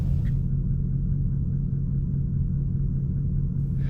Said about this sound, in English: letting the car warm up now